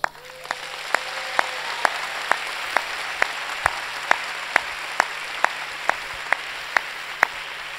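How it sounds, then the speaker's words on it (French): Steady applause from an audience at a religious communities' gathering on sexual morality, a dense even wash of clapping with regular sharp ticks running through it, holding at a moderate level throughout. "Si vous êtes d'accord, nous attendons vos acclamations."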